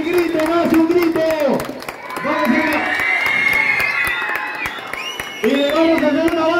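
A crowd of young people at a school shouts and cheers loudly for Peruvian athletics gold medalist Luis Alfredo Chávez, with sustained, overlapping yells, rising whoops and some scattered clapping, briefly dipping before a renewed burst of shouting.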